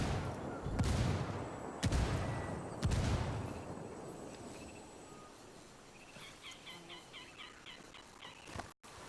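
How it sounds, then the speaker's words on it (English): Mortar shells slam down in a Ghost Recon Wildlands match, several heavy blasts in the opening seconds, each followed by a long rumbling decay, then quieter chirpy game ambience and small clicks. "going to be putting Mortars down on top of him, going to be forcing him out of this position"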